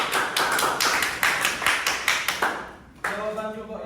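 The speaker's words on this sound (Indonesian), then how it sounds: "Beri tepuk tangan, Saudara." A class of students claps for a group presentation in a steady rhythm of about a dozen sharp, close claps, after which a voice starts speaking.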